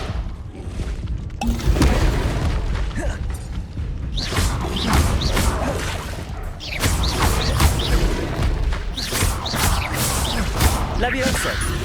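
Incendio fire spell blasts from Hogwarts Legacy combat, dense bursts of whooshing flame and crashing impacts layered over busy battle noise, loud and continuous with repeated hits across the clip.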